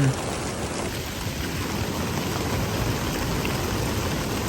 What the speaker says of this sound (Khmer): នេះទឹកភ្លៀង ខ្លាំងមែនតើ